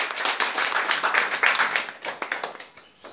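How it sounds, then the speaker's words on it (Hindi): Small audience at a business gathering near R.N. College clapping in honour of the speakers, a close, lively patter of hand claps that stays loud and then thins out toward the end. "उनके सम्मान में आप जोरदार ताली बजाएं।"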